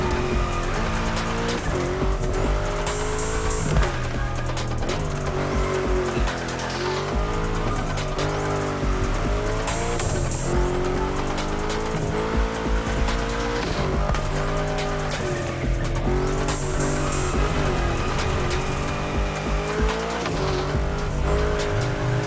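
A car drifting in The Crew Motorfest video game, its engine revving and wavering through bends while tires squeal in long sustained howls, loud and continuous with no talking.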